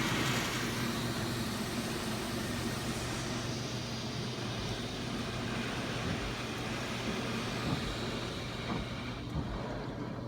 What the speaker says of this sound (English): Dumping water in.